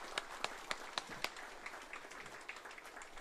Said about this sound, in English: join round of applause on President, His Excellency David Kabua.